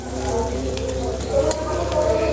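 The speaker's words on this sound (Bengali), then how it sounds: "এখন এই মশলাটা একটু ভাজা হোক" Spices frying in a pan in a home kitchen: an even, close, crackling sizzle that holds steady throughout, with no talk.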